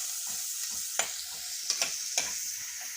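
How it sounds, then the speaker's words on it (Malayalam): Shallots, green chili, ginger and curry leaves sauté in hot oil with a steady sizzle, a spatula scraping and stirring the pan several times, close and without talk. "ചുവന്നുള്ളി പച്ചമുളക് ഇഞ്ചി വേപ്പില ഇത് നന്നായി വഴറ്റിയെടുക്ക"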